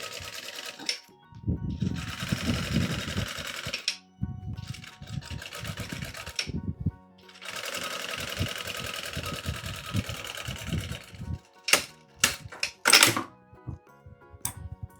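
A sewing machine stitches synthetic fabric in a straight stitch for a children's car organizer, running in two long loud bursts with short pauses and a few sharp clicks and handling knocks at the end.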